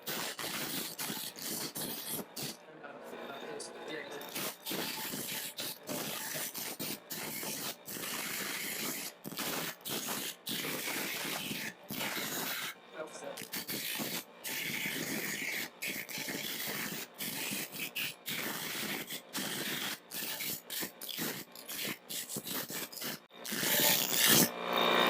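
A wooden dowel sanded into a point by hand, a steady close abrasive rasping in rapid repeated strokes that continues almost without pause, slightly louder at the end.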